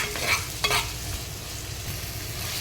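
Sliced onions with salt are stirred and sautéed in a clay pot, giving a soft, continuous sizzle broken by a few scraping stirs of the spoon; no one speaks.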